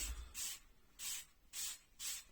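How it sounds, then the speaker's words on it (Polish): An ordinary aerosol can of mould remover sprays in four short, even bursts, each a sharp hiss about a third of a second long with brief pauses between, close and alone in a quiet room. "Jest to zwykły spray"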